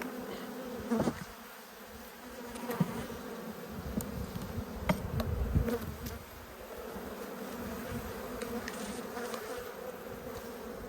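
Honeybees buzz steadily around an open hive during a late-winter inspection of brood frames, a dense droning hum with sharper passes of individual bees flying close by.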